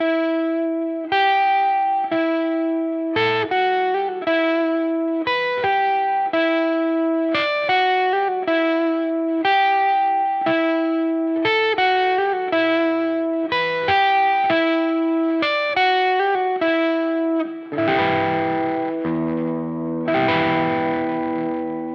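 A clean electric guitar, a Gibson Les Paul DC Special, plays a steady picked melodic pattern with delay repeats and a roomy reverb tail, ending in a strummed chord that rings out.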